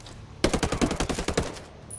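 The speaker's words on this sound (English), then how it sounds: "Fucking shotgun's brilliant." A shotgun fires in the video game Ghost Recon Breakpoint, a quick run of roughly ten sharp shots in rapid succession, close and punchy.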